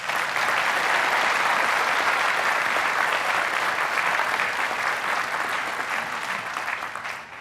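A commencement audience breaks into loud sustained applause, a thick continuous roar of many hands that stays strong for several seconds before easing slightly toward the end, with no speech on top.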